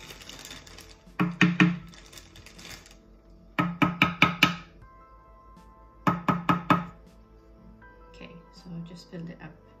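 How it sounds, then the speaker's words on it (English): Soil is tapped and packed into a small pH test tube in quick clusters of sharp knocking taps, close and separated by pauses. "on my test, I have to fill up soil to the 1 mil mark"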